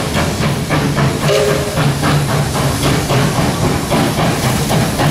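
Steam train arriving at the Zig Zag Railway near Lithgow, New South Wales, a loud continuous steam hiss and rumble running throughout, with a brief faint whistle-like tone in the middle.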